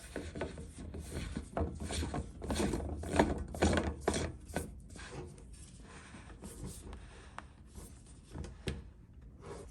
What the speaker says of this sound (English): This is where I like to take the wrench and snug each one up